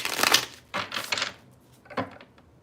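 Tarot cards are shuffled close up in a few quick riffling bursts, the first longest, followed by a shorter burst and a final brief flutter.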